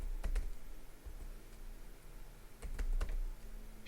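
HTML being typed on a computer keyboard: quick bursts of close, crisp key clicks, with a cluster near the start and a denser flurry toward the end, separated by quieter pauses.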